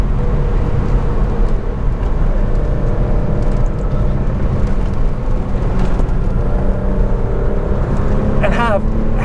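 1992 VW Corrado VR6 engine droning steadily under load while driving, a continuous loud rumble with road noise and no clear break.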